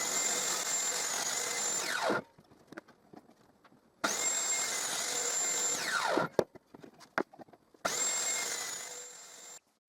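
A power tool cuts the corners of a wooden tray with tilted sides, in three loud, sustained bursts of roughly two seconds each, each trailing off as the motor winds down, with quiet handling clicks and knocks between the bursts.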